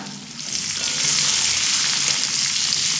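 Minced onion sizzles steadily in hot oil with spice tempering for a Bengali festive-style dish, a continuous close, loud frying hiss that swells slightly after the first half second and holds even with no speech.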